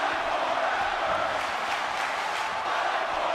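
In a WWE 2K18 wrestling arena, the crowd keeps up a steady, loud roar and chant that runs unbroken throughout, with a faint voice mixed into the din.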